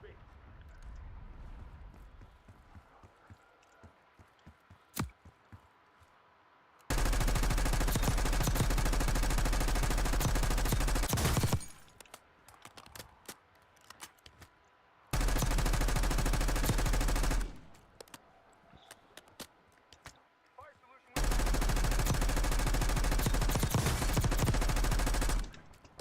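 Video-game gunfire comes in three long, loud bursts of rapid shooting, separated by quieter stretches with faint scattered sounds.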